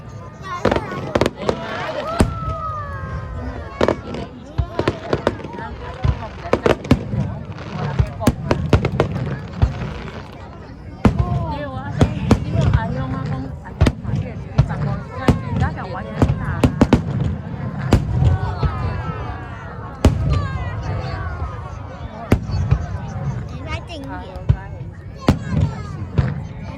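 Fireworks show at Tamsui Fisherman's Wharf, with rapid loud bursts and crackling pops going off in dense volleys close by, while people talk excitedly through it.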